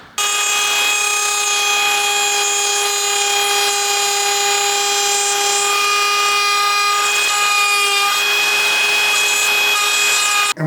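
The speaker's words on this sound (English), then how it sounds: "we're going to use the router to remove that excess material." A router cuts excess wood from a door edge to seat a latch, giving a steady, loud, high-pitched motor whine with a grinding rasp that runs unbroken for about ten seconds.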